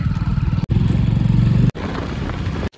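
A motorcycle in the video game Free Fire, its engine droning loud and close in steady revving bursts, cut by two brief silent gaps.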